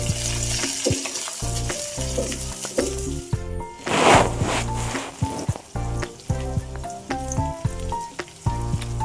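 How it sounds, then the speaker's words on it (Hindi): Chopped onion and two green chillies fry with cumin in a pan, giving a continuous sizzle broken by stirring scrapes, with a louder burst of crackling midway and background music underneath. "और यहाँ पे डाला हमने कटी हुई प्याज और 2 हरी मिर्च। इसे अच्छे से गोल्डन ब्राउन होने तक भूनेंगे।"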